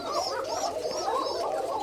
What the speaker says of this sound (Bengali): এটা হচ্ছে আমার কোকা কবুতরের খামার